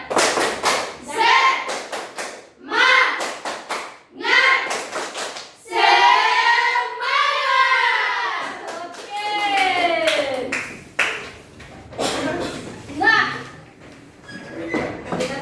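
Children chant and clap together in rhythm in a classroom guidance session, with loud bursts of patterned hand claps interleaved with energetic group vocals.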